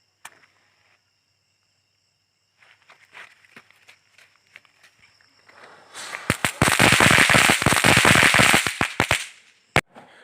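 A KitKat firecracker goes off after a few scattered pops and footsteps, then bursts into a loud, dense rapid string of crackling bangs lasting several seconds before a final sharp crack, alone with no talk.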